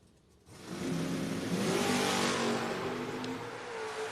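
A drag race car launches at a memorial drag race event, a roaring engine surging from near silence into a loud, sustained accelerating howl with shifting pitch.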